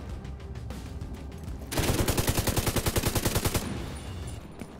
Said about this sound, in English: somebody's behind you shooting you